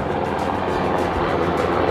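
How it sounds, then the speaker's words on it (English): A military helicopter passes overhead on a farm, a steady, loud broadband rotor and engine rumble with faint rhythmic pulsing, continuous throughout with no talk. "A nice military helicopter flying over."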